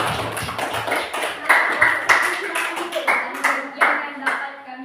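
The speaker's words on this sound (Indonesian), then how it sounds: "Beri aplaus dulu." A classroom of students applauds a group after its presentation, with brisk, rhythmic clapping close by and voices mixed in.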